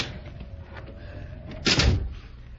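An unlocked door is pushed open in a radio drama, a brief creak followed by a louder wooden bump and rattle near the end, alone with no one speaking.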